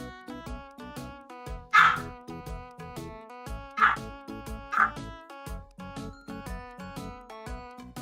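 Small dog barking in a few sharp, high yaps spaced across several seconds, fairly close, over steady musical tones in the background.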